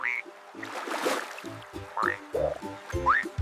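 A frog calls in a series of short, low, croaking pulses, mixed with a few rising chirps. The sound is close and moderately loud.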